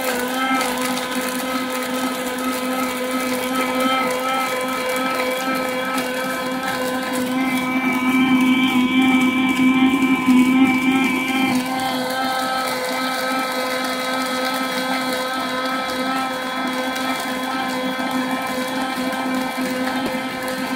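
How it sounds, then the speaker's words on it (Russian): Blender whirring steadily while pureeing sea buckthorn berries with sugar, a loud close motor whine running continuously, its pitch rising and the sound straining briefly midway before settling back. "Сейчас мы на блендере приготовим ягоду,"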